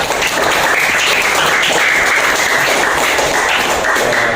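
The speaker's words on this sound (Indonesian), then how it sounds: "tepuk tangan untuk kelompok keempat" Classroom audience applauds a student group after their presentation, a dense, loud burst of clapping sustained from start to finish.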